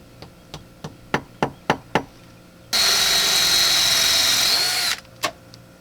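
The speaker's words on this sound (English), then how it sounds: "the first hole's drilled" A power drill bores a hole into a wall while a wifi sprinkler controller is installed: a burst of loud, steady whining drilling about two seconds long, preceded by a quick series of sharp knocks and followed by a couple more.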